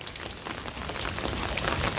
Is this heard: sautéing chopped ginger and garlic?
no